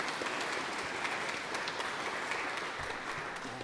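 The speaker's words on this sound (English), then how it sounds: "So if we can give them another round of applause" Sustained crowd applause for university regents at a Washington State University athletics Champions Center celebration, a dense steady wash of many hands clapping at moderate level throughout.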